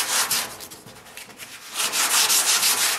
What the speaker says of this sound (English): I realize again that I'm hand sanding, but I'm not sculpting. I'm just knocking down the shine.